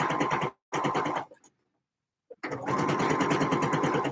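A sewing machine stitches bias binding onto the edges of a skirt, running in loud, steady bursts that stop for a short silent pause before the motor starts up again.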